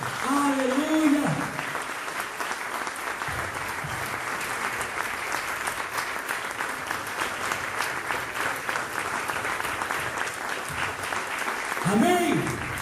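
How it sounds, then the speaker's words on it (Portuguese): A church congregation applauds, a sustained crowd clapping lasting over ten seconds, with a preacher's voice heard briefly at the start and again near the end. "Dê um aplauso ao Senhor."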